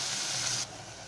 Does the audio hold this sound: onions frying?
yes